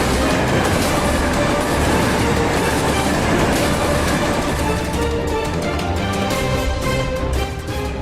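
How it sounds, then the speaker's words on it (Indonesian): A train rolls along the rails in a steady, loud, continuous rumble with rhythmic clatter of wheels, the noise holding close throughout before easing slightly at the end. "Ternyata, gempa bumi itu adalah kereta yang melintas di rel ini."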